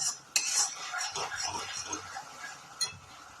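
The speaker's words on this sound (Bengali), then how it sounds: "আঁচটা বাড়িয়ে খুব ভালো করে এটা মশলাটা কষিয়ে নিতে হবে" Masala being stirred and fried in a pan for a Bengali doi katla fish curry over raised heat, with repeated utensil scrapes and clinks against the pan across a soft sizzle, close and moderately loud.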